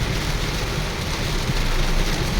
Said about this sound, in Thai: ตอนนี้ฝนกำลังตกแรงมาก